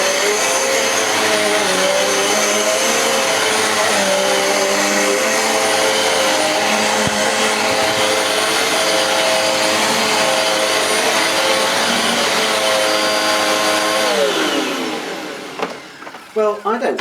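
A Hoover Blaze Pets bagless upright vacuum cleaner runs on setting 2 with a loud, steady motor drone and whoosh, no shrill whine, then winds down and stops near the end.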